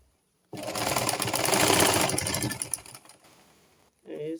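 A sewing machine runs in a fast burst while stitching a flounce sleeve, whirring loudly for about two seconds and then slowing and tapering off, followed by a short snippet of speech at the end.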